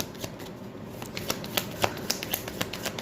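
Tarot cards are shuffled by hand in a quick run of soft, papery flicks and riffles that grow denser toward the end, close and fairly quiet.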